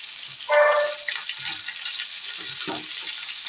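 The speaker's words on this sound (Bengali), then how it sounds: "এই যে মাছ ভাজা চলছে" Fish frying in oil in a home kitchen, a soft steady sizzle with a brief louder burst near the start and a few faint clinks of utensils, no talking.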